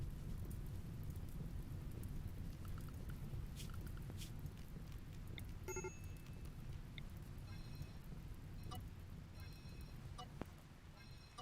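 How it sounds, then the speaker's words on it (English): Rain falls steadily in the RimWorld video game, a dense, continuous patter that holds at an even level throughout, with low rumbling underneath. "There's the rain, thank God."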